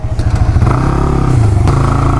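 A motorcycle engine runs loud and close with a steady, pulsing throb, then its pitch rises briefly as it is revved.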